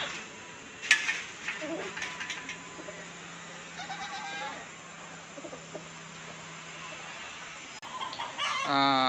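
Chickens clucking and calling at a distance, mixed with goat-like bleats and faint voices in the background.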